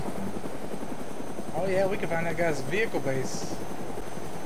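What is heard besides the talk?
helicopter flying in the video game DayZ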